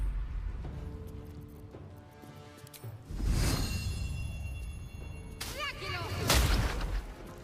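Cannons in the video game Baldur's Gate 3 fire two heavy booming blasts, one around the middle and a louder one near the end, each with a whooshing crack over low game ambience.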